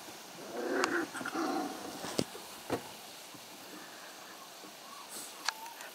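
Small dogs yip and whimper faintly at a distance, with scattered sharp little barks and soft rustling in a quiet outdoor space.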